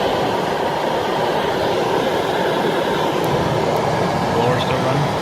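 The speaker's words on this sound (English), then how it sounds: "Blower's still running." A blower in an HVAC system running continuously, a steady broadband rushing hum at constant level with faint clicks, with no audible talk over it.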